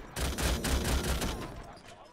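A machine gun in the video game Call to Arms fires a short, rapid burst of shots. The rattle is moderately loud, then fades out over about two seconds.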